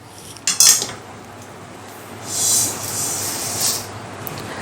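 Roasted dal is tipped from a metal pan into a vessel of jowar, with a sharp metallic clatter and scrape early on and softer pouring and rustling grains after it, close and alone, with no talk.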